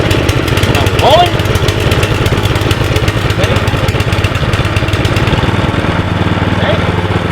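A petrol-engine lawn dethatcher runs continuously at a steady rumbling idle outdoors, loud and close throughout with no pauses.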